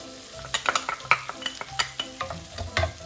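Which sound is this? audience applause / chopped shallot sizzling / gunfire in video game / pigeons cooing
chopped shallot sizzling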